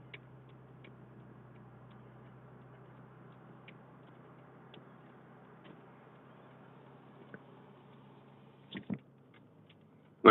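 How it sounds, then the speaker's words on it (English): Truck four-way flashers ticking while rolling down the road, faint sparse clicks at irregular spacing over a low steady engine drone, with a couple of louder knocks near the end. "So you might hear a little ticking noise there as we roll down the road here."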